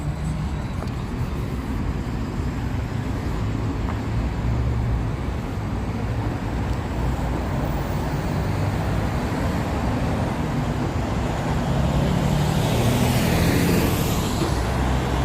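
Steady street traffic at a busy Las Vegas intersection, with a continuous broad roar of cars, buses and trucks passing at moderate distance and no pauses.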